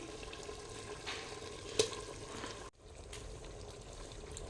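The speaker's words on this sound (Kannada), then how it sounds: "ಈ ಮಸಾಲೆನ ಚೆನ್ನಾಗಿ ಹುರಿಬೇಕು" Ground masala of cinnamon, cloves, ginger, garlic, onion and green chili fries in a pan over a wood-fired stove, a faint steady sizzle with one brief sharp clink partway through.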